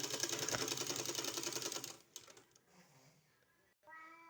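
A sewing machine stitches a sleeve at close range, whirring loudly and rapidly for about two seconds before stopping, followed by faint handling sounds and a brief later tonal noise.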